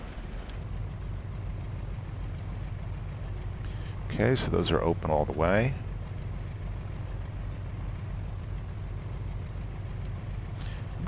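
A P-47 Thunderbolt's engine runs in the A2A flight simulator, warming up with the cowl flaps open: a steady, low, even drone throughout, with someone talking briefly over it midway.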